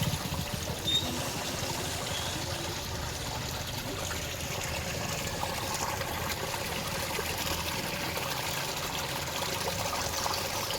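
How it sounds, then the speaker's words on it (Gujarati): Rainwater runs and trickles steadily during light, ongoing rain outdoors, a constant moderate watery wash and dribble that stays even from start to finish. "પાણી તો ચાલુ જ છે."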